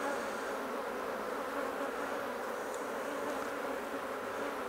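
Honeybees buzzing steadily and close during a hive inspection of a colony with wax moth trouble and bald brood, a continuous dense drone with no talk over it.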